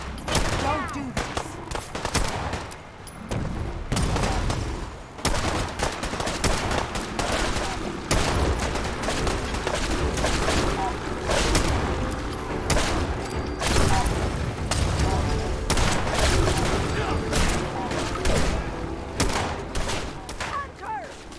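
Dense, sustained gunfire volley in Fallout 4 during an attack on Far Harbor, with rapid overlapping shots and booms filling the scene loudly throughout, under occasional shouted voices.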